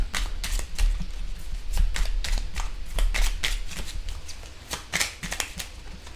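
Tarot cards are shuffled by hand during a reading, the riffling and sliding running continuously, close and fairly loud, with sharp flicks over a low background hum and no talking.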